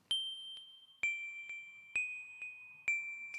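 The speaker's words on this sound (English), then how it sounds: "then we've got some bells from Sculpture" Four bright synthesized bell strikes from Logic Pro X's Sculpture instrument, each ringing out and decaying before the next, evenly spaced with clear sustained tones.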